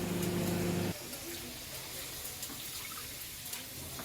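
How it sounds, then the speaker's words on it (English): Water is poured into a cooking pot for rasam in a home kitchen: a steady, close gush of pouring for about a second, then quieter splashing and sloshing in the pot. "we'll add only 2 cups of water"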